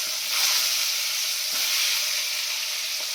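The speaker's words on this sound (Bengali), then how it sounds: "এবারে কি একে একে ডিম দিয়ে দেবো।" Eggs fry in hot oil with a bright, continuous hiss and sizzle, close up and steady, broken only by a few soft crackles, with no voices.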